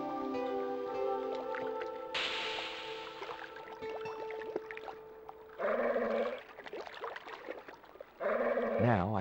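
In the Broken Sword II video game, water from a bottle is poured onto a hot cone, giving a hissing, squishy gush that comes in two bursts among soft drips and background game music.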